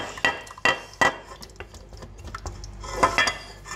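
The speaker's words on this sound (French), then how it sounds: "j'incorpore mon chocolat et mon beurre" A utensil stirs melted chocolate and butter together in a bowl, giving close, irregular clinks and scrapes against the side, with a busier cluster of knocks near the end.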